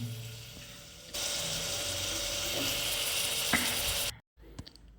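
Peas and potatoes drop into a pan of sizzling onions: a quiet fry becomes a loud, steady hiss for several seconds, with a few clinks near the end before it cuts off.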